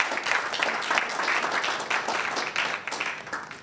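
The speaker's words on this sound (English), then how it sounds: "A round of applause for that." An audience applauding at the launch of a national school quiz competition, loud continuous clapping with a dense crackling texture that stays strong throughout and dips briefly near the end.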